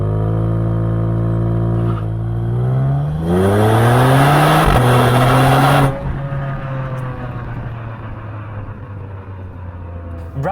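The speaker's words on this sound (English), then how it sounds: "It gives you a smooth V6 sound." A 2021 Genesis G70 V6 with sport exhaust accelerates hard, its smooth engine note climbing through the revs, then easing off into a lower cruising drone, loud and close.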